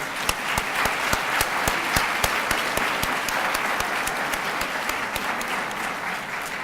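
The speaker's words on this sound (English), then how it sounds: "Let's give them a round of applause." Audience applause at an annual student recognition ceremony for African American Student Services, sustained clapping from a crowd with a few sharp, distinct claps standing out from the steady wash, no speech over it.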